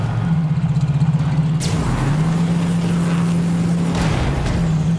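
Vehicle engine in the game Borderlands 3 droning steadily with a low hum as it drives over an edge, with a sharp thud or impact partway through and another bump near the end.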